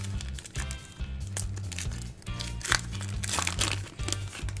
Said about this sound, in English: So opening the cello packs